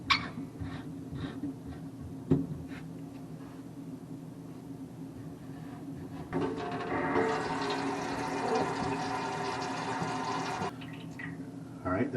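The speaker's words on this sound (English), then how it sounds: "I'm going to turn on the water" A newly installed kitchen faucet is turned on, and after a few seconds of quiet handling noise a steady, fairly loud stream of running water pours for several seconds before shutting off.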